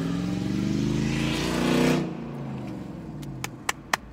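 A truck engine revs loudly for about two seconds, its roar swelling then dropping away, followed by a few sharp clicks toward the end.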